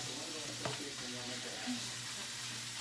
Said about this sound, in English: I'm cooking hamburger meat.